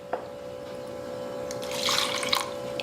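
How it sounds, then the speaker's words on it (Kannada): A little water is poured into a mixer jar of soaked dry chickpeas for dosa batter, making a short, close splashing trickle near the end over a steady low electrical hum. "ಈ ಮಿಕ್ಸಿ ಜಾರಿಗೆ ಸ್ವಲ್ಪ ನೀರು ಹಾಕೊಂಡು ಹಾಕೋತೀನಿ ನೋಡ್ರಿ"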